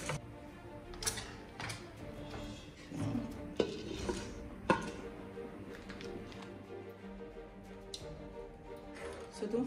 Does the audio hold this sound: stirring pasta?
yes